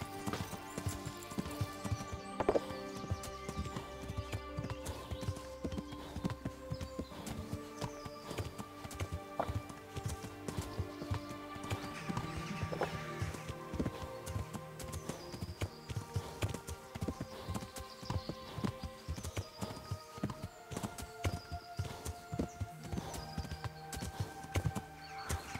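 Horse hooves in Kingdom Come Deliverance, a loud steady stream of clip-clop beats with an occasional whinny, set against continuous background music throughout.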